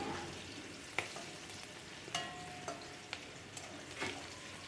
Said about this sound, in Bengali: এখানে খুব বেশি ভাজার প্রয়োজন নেই একটু হালকা করে আমি কিন্তু ভেজে নিচ্ছি